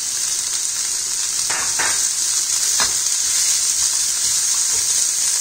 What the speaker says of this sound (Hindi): तो पहले हम सारी सब्जियां हाई फ्लेम पर सॉटे करेंगे